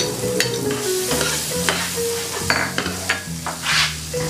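Onion frying in butter in a pan gives a steady loud sizzle, with a spatula stirring and scraping through it in repeated strokes, close up and without speech.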